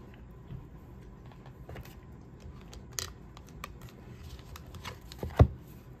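Tarot cards being shuffled for a card pull, soft riffling and shuffling close by with a few louder snaps and a sharp slap near the end, no voices over it.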